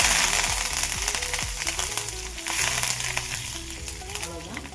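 Fennel seeds, bay leaf and curry leaves hit hot oil for a South Indian mutton kuzhambu, giving a busy, close sizzle with sharp crackles and pops that slowly settle to a steadier fry.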